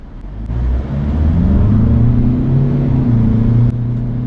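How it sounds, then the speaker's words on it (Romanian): A Ford Kuga accelerates hard from standstill toward 100 km/h, its engine note climbing in a loud, rising drone with a steady rumble inside the cabin and no talk. "Aici putem să-i dăm 0-100, să vedem în câte secunde face."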